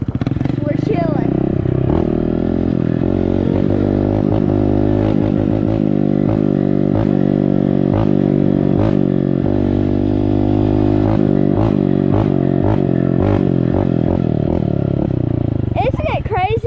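Honda dirt bike with a straight, gutted exhaust and no silencer, ridden around a yard: loud, steady engine drone with repeated revving surges and clattering pulses throughout, close to the listener, with speech over parts of it.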